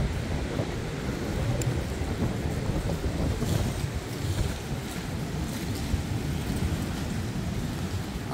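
Strong typhoon Hinnamnor winds and rain lash Songjeong Beach, a steady loud roar of gusting wind buffeting the microphone with surf noise underneath, continuous throughout with no talking.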